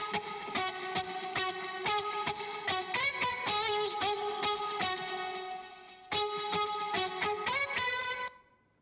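Guitar sample pitched up 300 cents, playing bright repeated chords with effects and distortion, steady rhythmic strums with a brief dip near the middle before resuming and cutting off near the end; no voices.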